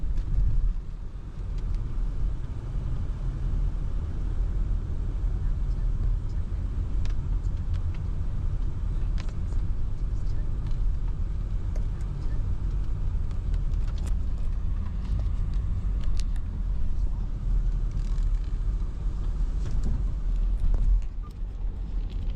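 A Mercedes-Benz GLS 400d diesel drives along a road, heard as a steady, low, muffled rumble of engine and tyres from inside the cabin, with faint small clicks and no talking.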